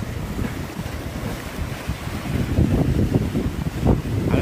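Calm Red Sea waves wash gently over a rocky shore, a soft continuous rush of water that swells slightly toward the end, with steady wind buffeting the microphone throughout.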